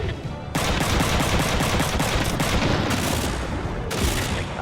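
Sustained mech gunfire in Front Mission 3 rattles out in rapid, loud bursts. The chattering volley runs almost without a break after a brief quieter start.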